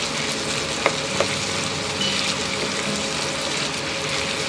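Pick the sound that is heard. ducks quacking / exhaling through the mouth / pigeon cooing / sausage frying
sausage frying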